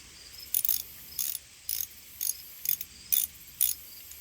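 Quick ratchet clicking in short repeated bursts, about eight in four seconds, as the oil drain bolts on a Honda ATV are tightened, close and fairly crisp.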